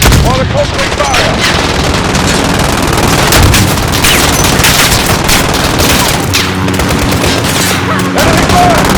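Gunfire from the video game Modern Warfare fills the scene: loud, dense machine-gun bursts and rapid shots mixed with heavy booms, almost continuous and close, with shouted voices in the chaos.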